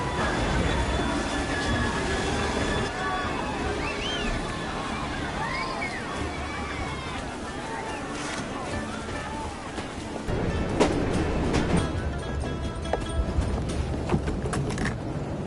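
Creaking, clanking train machinery in the video game Assassin's Creed Syndicate, with metallic squeals and rattling gears that grow denser and louder in the second half, under intermittent voices.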